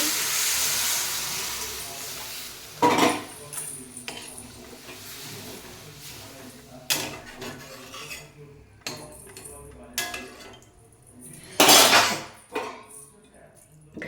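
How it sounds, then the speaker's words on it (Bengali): Water poured into a hot pan of sautéed vegetables bursts into loud sizzling hisses that flare and fade in several waves, with clinks of utensils against the pan and a voice talking between them. "এবার জল ঢেলে দেবো"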